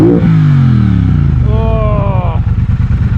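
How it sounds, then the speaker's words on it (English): Triumph Bobber motorcycle idling and blipping close by with a loud, deep low-down burble, the engine note rising and falling over a steady rumbling idle. "Just this low down burble is just awesome."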